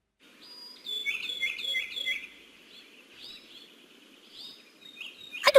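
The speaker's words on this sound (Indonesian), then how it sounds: "suara burung" Bright little bird chirps and tweets come in quick repeated phrases over a faint low murmur, added as a sound effect in an AI-made cartoon, clear and fairly close, ending with a sharp click.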